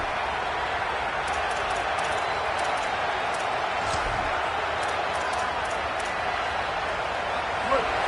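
A loud, steady roar from a packed stadium crowd at an American football game on first and goal rises as fans refuse to quiet down, continuous and dense throughout.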